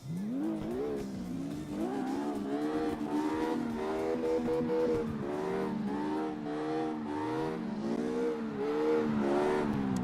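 A drift car's engine in the video game CarX Drift Racing revs loudly and continuously for about ten seconds. Its pitch climbs and dips as the throttle works, with a faint hint of tire squeal underneath.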